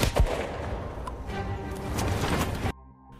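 Dense gunfire in a film gunfight between special forces and gangsters, a continuous loud barrage of overlapping shots and booming blasts that cuts off abruptly into quiet.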